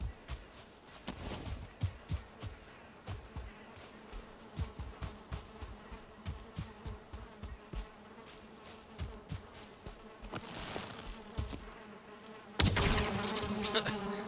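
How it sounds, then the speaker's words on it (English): Bees in the Valheim video game, a droning insect buzz under a rhythmic series of regular thumping footsteps, with a louder rush of sound near the end. "I also hear a bee."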